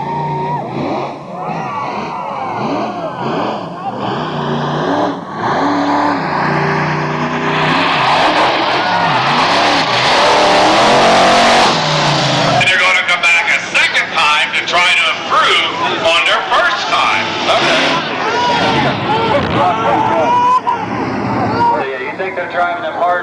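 Monster trucks at a 2005 motorsports park show roar off the start line, loud engines revving and surging with tyre squeal, a sustained close-up blast of engine noise with a voice over it at times.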